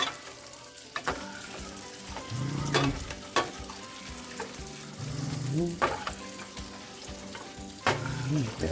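Grits stirred in a pot on the stove, a spoon scraping and knocking against the sides in uneven strokes, with soft bubbling and faint sizzling underneath at close range.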